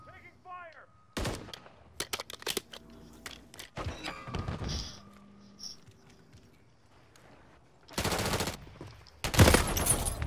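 Gunfire in the Modern Warfare 3 video game comes as scattered sharp shots and short bursts of automatic fire, with loud clusters near the end and some brief game sounds in the gaps.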